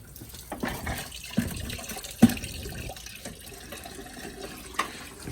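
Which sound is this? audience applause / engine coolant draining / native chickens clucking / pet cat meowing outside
engine coolant draining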